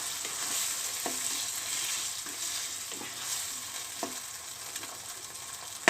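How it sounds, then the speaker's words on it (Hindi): Minced beef qeema with yogurt, cooked dhaba style for a karela dish, is stirred in a pan over a steady close-up sizzle, with a spoon scraping through in regular strokes about once a second. "अब मैं इसमें योगर्ट यानी कि दही ऐड कर दूंगी और इसे अच्छे से मिक्स करूंगी।"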